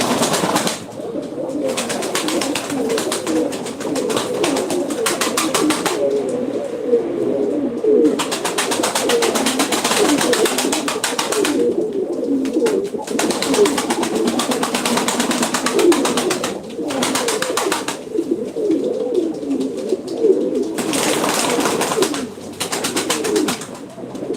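Breeding pigeons coo in a loud, continuous chorus of throaty rolling calls close by, with occasional bursts of flapping wings breaking through.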